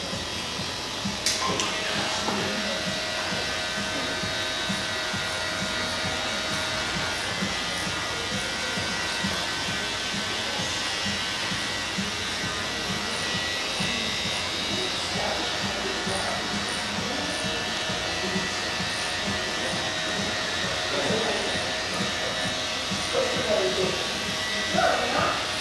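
An electric hair clipper fitted with a number 2 detachable blade buzzes steadily while cutting straight hair for a men's skin fade, with a person talking over the constant motor hum.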